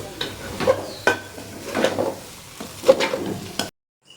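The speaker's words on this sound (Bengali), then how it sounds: "এবার আমি চালগুলোকে খুব করে নাড়াচাড়া দিয়ে ভেজে নেব।" Washed rice being stirred and dry-fried in a pan, with a few distinct scraping strokes of a spatula at a steady rhythm over a soft sizzle, close and moderately loud, ending abruptly in silence.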